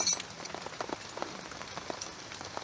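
Rain patters steadily at a campsite during a solo overnight camping trip, a dense spread of small drops with scattered sharper taps at close range, and no voices.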